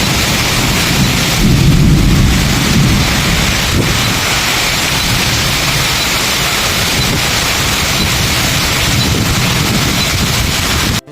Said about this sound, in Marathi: थोड्याच वेळात एवढं जोरदार पाऊस लागलो ना की बघा तुम्हीच काय केल्यानंतर.